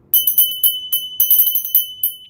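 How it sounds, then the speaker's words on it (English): Crystal bells ringing, with a rapid run of bright, sharp chimes, each leaving a sustained high ring, struck again and again at uneven intervals with short pauses, close and clear without any talk. "And then we've got some crystal bells."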